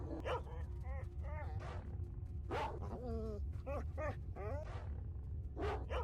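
A dog in S.T.A.L.K.E.R. Shadow of Chernobyl gives a run of short, rough barks and growling yelps over a steady low rumble, at moderate distance.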